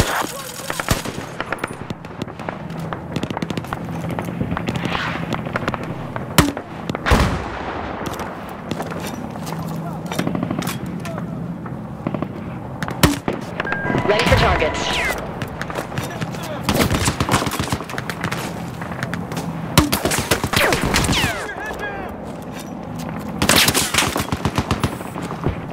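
Battlefield 4 campaign combat: dense machine-gun bursts and single gunshots crackle almost without pause, with sharper loud volleys standing out and voices shouting over the gunfire.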